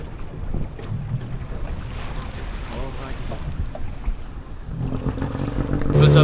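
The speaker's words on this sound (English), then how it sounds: "The boat is here." A boat's engine rumbles beneath gusty wind buffeting the microphone off an island in Jamaica, with water sloshing nearby and the motor growing louder toward the end.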